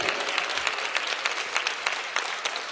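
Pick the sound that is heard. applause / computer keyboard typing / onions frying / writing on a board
applause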